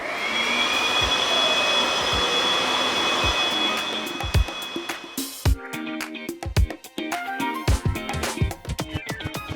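A steady, loud blower whooshes for about five seconds, then cuts off, followed by a series of sharp clicks and clatters.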